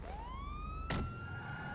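A police car siren in GTA Online, a rising electronic wail sweeping upward and holding steady, fairly close, with a brief burst of broadband noise cutting across midway.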